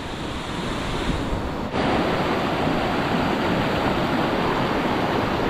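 Rushing flood water surges through a river in a sudden flash flood, a loud, dense, continuous roar close by with a brief dip partway through.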